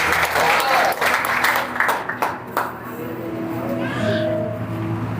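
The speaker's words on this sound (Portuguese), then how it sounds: "aplauda a palavra do Senhor" Church congregation at a Sunday service applauding, loud dense clapping that thins out and fades after a couple of seconds as voices and murmuring take over.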